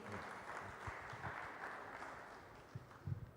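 Applause fills a hall at the Benue International Investment and Economic Summit 2025, a steady mid-distance wash of many clapping hands with a few louder claps near the end.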